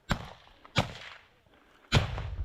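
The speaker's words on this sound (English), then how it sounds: "And there's this explosion." An explosion from a hand grenade in combat footage from the war in Ukraine: three sharp broadband blasts spaced about a second apart, the last one heavier with a lingering low rumble.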